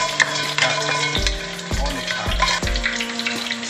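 Thai braising spices dry-roasted in a pan, stirred with repeated scraping strokes and a soft sizzle, several distinct clanks of the utensil against the metal, close up and without speech.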